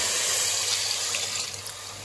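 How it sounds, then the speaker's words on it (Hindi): Water being poured into a yogurt and spice mixture for nihari, a steady close splashing and gushing that runs the whole time without talk. "अब हम इसमें पानी ऐड कर देंगे"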